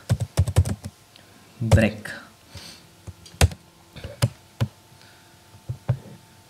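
Code being typed on a computer keyboard, clusters of sharp clicking keystrokes with pauses between bursts and a louder thump midway, close up, with no talking over it.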